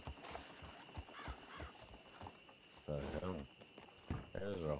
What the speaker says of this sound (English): There's a horse up here.